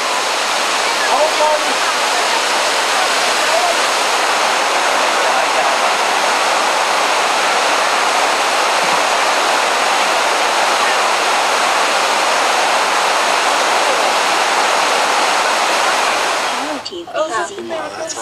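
Artificial waterfalls pouring into constructed pools on a mountain, a loud, dense, continuous rushing roar heard up close that cuts off abruptly near the end.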